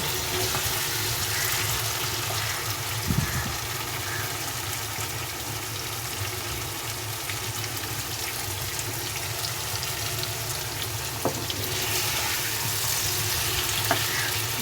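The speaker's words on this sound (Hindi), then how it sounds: "ये देखें, हमारे आलू जो हैं वो भुनने लग गए हैं" Potatoes fry in oil with spices in a pan, a dense continuous sizzle that stays loud and steady throughout, broken by a few brief clinks or stirring knocks.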